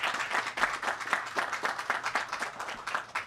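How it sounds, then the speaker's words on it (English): An outdoor audience on a Cambria County farm gives a round of applause, and the uneven clapping from many hands holds steady throughout. "Let's give them a round of applause for hosting"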